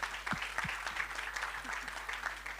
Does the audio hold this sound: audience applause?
yes